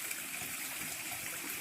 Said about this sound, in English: So we're here at the edge of the falls.